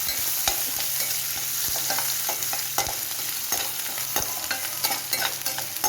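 Garlic and ginger fry in hot oil for a bitter gourd and carrot pickle, making a constant bright sizzle. Frequent light clicks and taps come from stirring throughout, and no one speaks.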